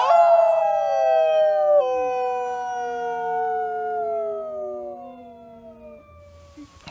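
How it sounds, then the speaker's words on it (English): Several people howl outside in the evening, long overlapping wails that slide downward in pitch over about six seconds, fairly loud and without talk. "some howling outside around 8 o'clock"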